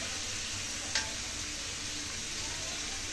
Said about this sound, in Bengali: পিসগুলো ফ্রাই করে নিয়ে বানাবো, আজকে ফ্রাই করে নিই